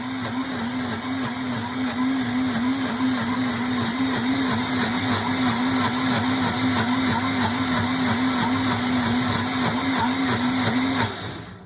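A Vitamix blender runs at full speed blending wild mushroom soup, a loud, steady, high-pitched motor whine with a churning roar that holds for several seconds before cutting off abruptly.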